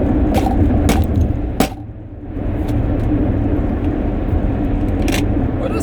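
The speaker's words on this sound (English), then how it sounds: "That's the thing about this old car, man. It be making like funny sounds out of nowhere" An old car drives along with a loud, steady engine and road rumble. Several short rattling clicks and knocks cut through it at irregular moments.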